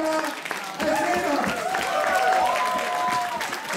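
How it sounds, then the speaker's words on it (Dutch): An audience applauds auctioneers at a Dutch fan-day auction, steady dense clapping filling the room with voices and tonal sounds mixed over it. "Nee, geef nog even een enorm applaus voor de veilingmeesters Paula en Linda."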